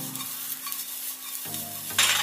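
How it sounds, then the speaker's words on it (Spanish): Onions sautéing in a small amount of leftover fat in a pan, a steady close sizzle with stirring scrapes, brighter frying hiss flaring at the end. "Vamos ahí a saltear las cebollas."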